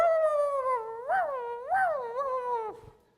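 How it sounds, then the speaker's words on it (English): A performer in a stage musical voices a dog, producing a drawn-out howling whine that rises and falls in pitch a few times before trailing off, close and unaccompanied. "Do not interrupt when someone is barking."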